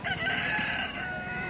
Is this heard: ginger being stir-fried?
no